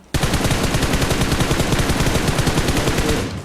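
Rapid automatic gunfire in a close-range battle royale fight, a loud, continuous burst of evenly spaced shots lasting about three seconds before it cuts off, with no voices over it.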